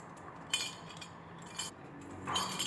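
A mainspring is fitted into an antique clock during restoration, with several light metallic clinks and rattles of small parts, close and quiet, with no talk.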